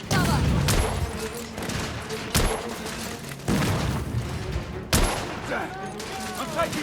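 Heavy gunfire crackles through a firefight in The Order: 1886, with sustained bursts and several sharp booming shots cutting in, all loud and close, while a voice calls out over the battle.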